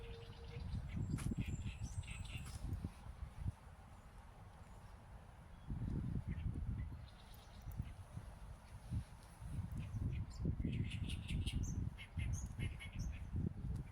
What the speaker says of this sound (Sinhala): කුරුල්ල සද්ද නම් තියෙනවා අමාරු විදිහට නේ.